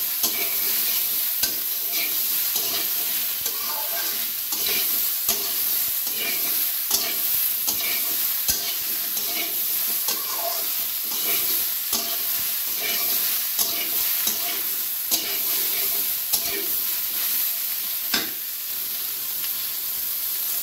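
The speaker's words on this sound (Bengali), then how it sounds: "এবার হলুদটা দিয়ে কিছু সময় সুন্দর করে নেড়ে চেড়ে নেব" Pointed gourd with turmeric stirred and frying in a pan: steady close sizzle with frequent scraping spatula strokes throughout, no talking.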